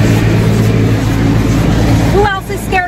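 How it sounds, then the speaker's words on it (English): Automatic car wash machinery runs as a loud, steady mechanical roar heard from inside the car, with a voice speaking briefly near the end. "Who else is scared of the car wash?"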